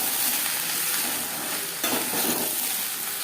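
Vegetables, turmeric and salt being stirred in a frying pan for a small-fish curry, a steady sizzle with scraping stir strokes up close, brightening midway as the food is moved.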